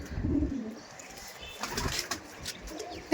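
Madrasi tournament pigeons cooing in a Dum Dum loft, a few low throaty coos rising and fading over soft background noise, with a brief louder sound at the end.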